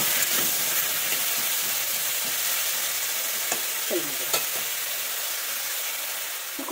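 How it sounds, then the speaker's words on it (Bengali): Cauliflower florets rubbed with salt and turmeric fry in hot oil in a kadai, a steady broadband sizzle throughout with a few sharp spatters and clinks near the end. "কড়াতে তেল দিয়ে দিয়েছি, দিয়ে কিন্তু আমি ফুলকপিগুলো ভেজে নেবো সব।"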